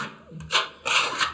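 Paste filler being spread with a 45 mm putty knife while filling holes left after wall tiles were removed: two short scraping, rubbing strokes, the second longer and louder, close and with no talking.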